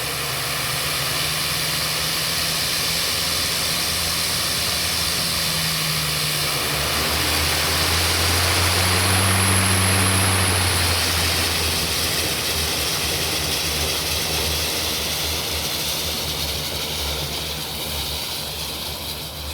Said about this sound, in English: So we're standing on the shore, and the plane's firing up